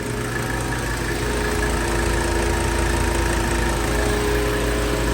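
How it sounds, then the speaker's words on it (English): Electric radiator fan running on a 1984 Mercedes 300D with the engine going, a steady loud whirring drone over a low engine hum, unchanging throughout. "That's the electric fan."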